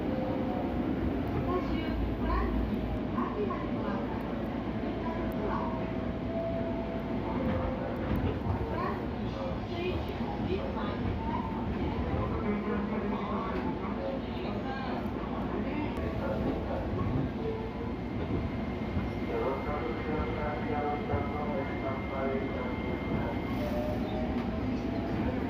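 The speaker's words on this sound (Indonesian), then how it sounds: "di sini kita juga ketemu sama truk rel lagi, itu mungkin masih menebar balas" Rail maintenance truck spreading ballast on a new double-double track near Bekasi and Cakung, giving a continuous rumbling, clattering drone with metallic squeals for the full duration while someone talks over it.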